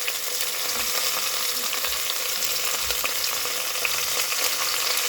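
Mango pieces fry in a pan with panch phoron five-spice and bay leaf for chutney, a bright continuous crackling sizzle that holds steady throughout, close and fairly loud, with no talk.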